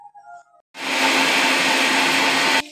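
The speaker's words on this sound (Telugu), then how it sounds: "ఇవన్నీ మిక్సీకి వేసేసి మనం ఫ్రై చేసుకుందాం" A mixer grinder grinds whole dry spices such as cinnamon, cloves and peppercorns for a chicken fry masala, starting abruptly into a loud, steady high-pitched whir and stopping sharply after about two seconds.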